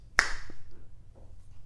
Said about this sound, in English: snap your fingers